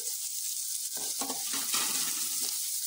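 Onions sizzling and frying over a high flame, a steady hiss with several bursts of stirring partway through, close and fairly quiet, no voices.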